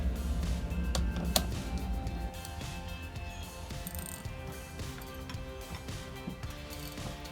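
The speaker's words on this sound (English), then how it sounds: "socket and a ratchet to turn this here" Close, steady clicking of a ratchet turning a 14 mm socket on the crankshaft bolt of a 1971 VW, with a brief sharp metallic clank near the start and a continuous mechanical background.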